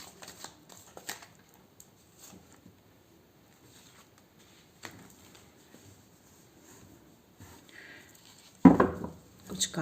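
A deck of cards is shuffled by hand during a spiritual card reading: soft, sparse riffling patters over a quiet room, then a louder, fuller burst of shuffling near the end.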